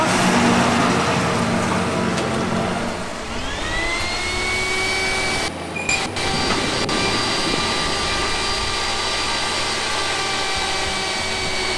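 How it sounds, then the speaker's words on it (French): Powerful grain suction system drawing harvested grain into a pipe during a wheat harvest, a loud, constant vacuum-like roar with a whine that rises in pitch partway through and holds steady. "Ici il y a une grosse aspiration qui du coup aspire le grain dans le tuyau"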